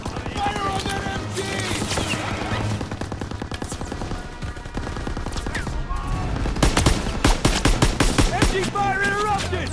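Rapid bursts of machine gun fire in a Call of Duty: WWII battle, loud, dense and close, with shouting voices and music mixed in underneath.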